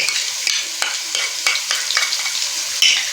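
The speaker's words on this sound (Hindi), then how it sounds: "दही को अच्छी तरह से बीच में मिक्स कर लेंगे।" Yogurt stirred into hot sizzling masala in a pot, a close crackling fry with a spoon scraping through it in repeated short strokes.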